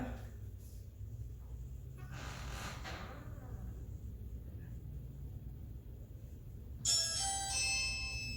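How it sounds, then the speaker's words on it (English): Low background rumble, then a short electronic doorbell chime played from a phone rings out near the end, clear and tinny. "now playing the actual doorbell ring on my phone"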